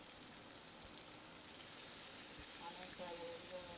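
Chopped onion, chili and tomato frying in a pan give a faint, even sizzle that holds steady for a few seconds, with light crackle on top.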